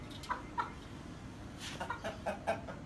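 Several Aseel chickens cluck in short, scattered bursts over a steady low background hum, with no one talking.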